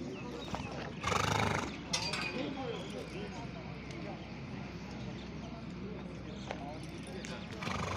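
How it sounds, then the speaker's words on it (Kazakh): Horses at a livestock market in Toktogul stamp and clop on hard ground, with a neigh, a loud burst of movement early on and people talking around them in a busy, crowded bazaar. "жылқылар да ас түшіп тұр мал базарда."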